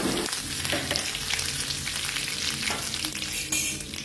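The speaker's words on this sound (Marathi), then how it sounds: "जिरं फुलून झाल्याच्या नंतर कढीपत्त्याची पानं टाकून घ्यायच्यात." Curry leaves dropped into hot oil with mustard seeds and cumin, bursting into a loud, close crackling sizzle that runs steadily with a few sharper spits and stirring scrapes, and no talk.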